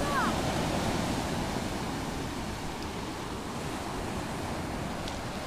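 Sea waves wash up onto the shore at Sukhum, Abkhazia, during a February seaside picnic at sunset. The surf makes a continuous close hiss and rush, blended with wind buffeting the microphone.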